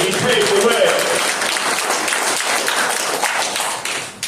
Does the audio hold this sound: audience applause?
yes